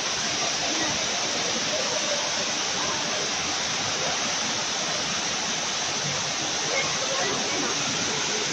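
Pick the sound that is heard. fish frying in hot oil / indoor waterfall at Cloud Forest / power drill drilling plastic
indoor waterfall at Cloud Forest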